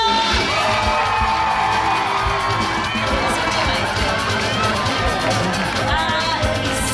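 A loud crowd at Universal Studios Hollywood cheers and shouts continuously during a race, with children's high-pitched yells and whoops blending into a dense roar.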